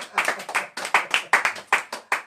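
A church congregation claps for Jesus Christ, a lively, fairly close burst of uneven handclaps with a loose rhythm, no voices over it.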